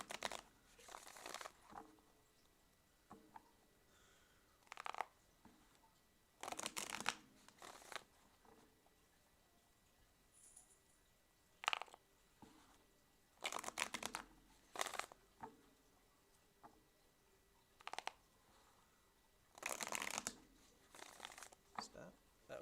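Tarot cards are shuffled by hand in repeated short riffling bursts with quiet gaps between them, while a person talks softly throughout.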